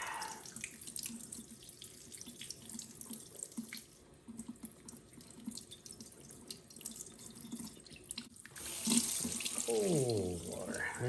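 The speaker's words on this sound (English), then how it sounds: "So we're washing out the body cavity of the snake." Cold tap water runs steadily over a freshly skinned rattlesnake as its body cavity is rinsed out, a continuous splashing stream, nearby and moderately loud, that brightens and grows harsher toward the end.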